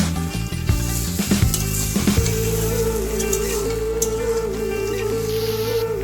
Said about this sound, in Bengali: এবার দিয়ে দেব ভেজে রাখা সয়াবিন। দিয়ে 5 মিনিট নেড়ে নেব।